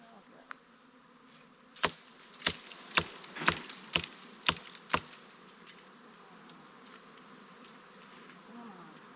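Angry honey bees swarming from a hive, a steady buzzing drone with a string of sharp, close thumps and bumps against the microphone in quick succession, then a calmer hum.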